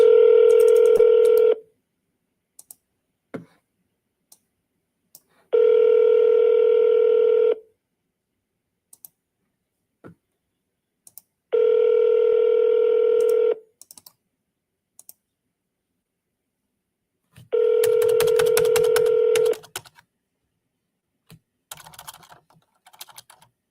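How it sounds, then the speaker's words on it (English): Four long ringback tones on a phone line, evenly spaced a few seconds apart, with faint clicks between and some light clatter at the end. "so rang that second time"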